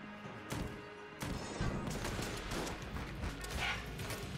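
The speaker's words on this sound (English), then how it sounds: "Fire off three shots" Quiet bursts of gunfire from Enter the Gungeon crack and thud in a cluster of rapid shots with brief gaps, set against a dense layer of game effects, faint throughout.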